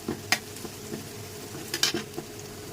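Chopped onion stirred in mustard oil in a pan, with a quiet, steady sizzle under a few sharp clinks and scrapes of a spatula against the metal.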